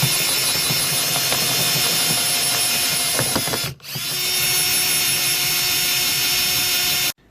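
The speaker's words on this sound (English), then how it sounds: "This is a 35mm hole saw bit." A 35mm hole saw bit driven by a power drill cuts through a van floor during a VW T4 diesel heater installation. A loud, sustained motor whine is broken by one brief stop and restart, then runs on until it cuts off abruptly.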